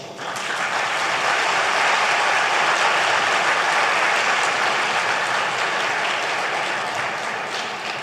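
A large crowd at a Brahmin community gathering in Palakkad claps loudly and continuously. The dense, roaring applause holds steady for about eight seconds before easing slightly at the end.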